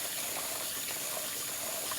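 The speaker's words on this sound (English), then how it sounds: "you're gonna just run water over your rice" Tap water runs steadily over rice being rinsed for Jamaican rice and peas, a continuous close gushing hiss with no talking.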